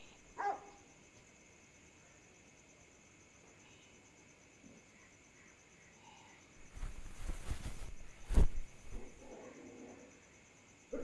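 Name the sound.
dogs barking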